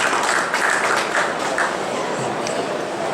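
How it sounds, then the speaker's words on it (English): Audience applause for a speaker being introduced at a regional used car values talk, steady dense clapping filling the room with a few sharper claps standing out, no talking. "Please give him a warm round of applause."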